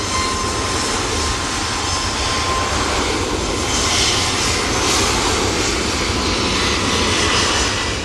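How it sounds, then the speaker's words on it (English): Loud, close jet engine roar from a Gulf Air Boeing 787-9 Dreamliner arriving at Manchester from Bahrain, a sustained broad rush with a faint whine that grows slightly stronger midway and stays alone without speech. "Gulf Air 787-9 Dreamliner now coming in from Bahrain"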